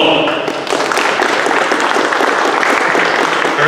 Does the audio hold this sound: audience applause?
yes